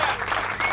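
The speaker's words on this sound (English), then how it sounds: "let's give a round of applause" A brief burst of audience applause at a charity golf event, steady clapping for under a second with no pauses.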